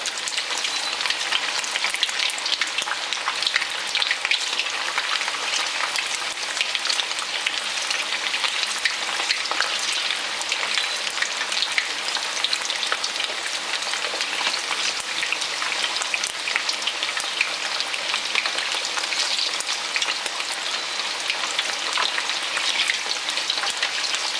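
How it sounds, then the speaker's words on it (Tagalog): Food frying in hot cooking oil for a Kapampangan recipe, a steady dense crackling sizzle that holds at an even loudness throughout with no talking. "Pag nagpiprito tayo, huwag masyadong marami ang nilalagay natin para hindi mag-drop yung temperature ng mantika."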